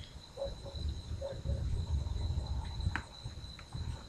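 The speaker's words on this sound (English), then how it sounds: "Beyond the crickets, there's a softer chirping. It's probably locusts off in the distance." Crickets chirp steadily in a quiet night, with a faint high continuous trill of distant locusts in the background and occasional soft chirps nearby.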